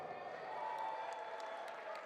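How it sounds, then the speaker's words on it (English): Audience applause at a track and field national championship, a steady wash of clapping and crowd noise heard from a distance across the stadium, lasting the whole moment without breaks. "let's give them a round of applause."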